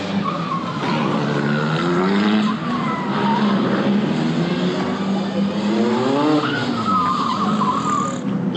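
Rally 1 cars in the tyre warming area at the Acropolis Rally in Greece: loud engines revving and tyres squealing continuously, with repeated rising and falling surges of engine noise close by.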